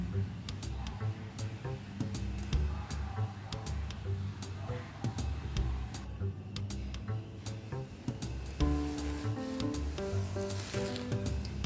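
Small puti fish frying in a pan with chopped tomato, a continuous soft sizzle with crackling pops and spatula scrapes, while someone talks over it.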